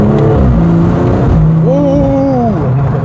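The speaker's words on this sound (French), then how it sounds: "Passage de rapport, elle pète." A BMW M240i imported from Texas revs hard and close, its engine note climbing, dropping at a gear change, then rising again with exhaust crackle on the shift.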